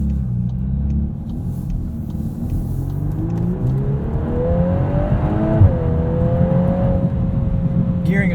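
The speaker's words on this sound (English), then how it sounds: "This Golf R does make some satisfying noises," A 2022 Volkswagen Golf R with DSG gearbox revs up, engine note climbing steadily in pitch over several seconds with a brief shift dip, then holding a high, loud drone heard from inside the cabin.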